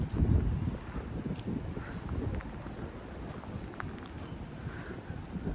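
Strong wind blows hard and steadily outdoors, a low roaring rush that buffets the microphone the whole time, with no voices.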